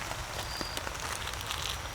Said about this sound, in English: It's raining good now